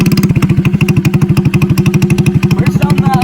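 Motorcycle engine idling through only the exhaust elbow pipe, with the SC Project muffler removed, giving a loud, steady, rapid pulsing throb close up.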